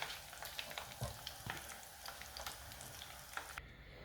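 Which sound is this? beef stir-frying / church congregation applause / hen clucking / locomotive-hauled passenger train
beef stir-frying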